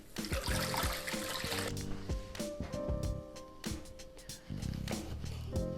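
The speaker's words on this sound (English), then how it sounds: "Now I'm going to give these potatoes a little rinse and chop them up roughly" Potatoes rinsed under a running kitchen tap, with close splashing water, rattling and knocking of the potatoes in hand and sink, in irregular bursts with no talking.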